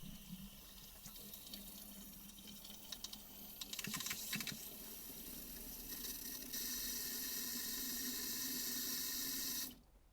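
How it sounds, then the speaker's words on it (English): A header tank is filled from a running tap, a steady broadband rush of water with a few clicks and knocks partway through, stopping abruptly near the end. "And fill that with tap water."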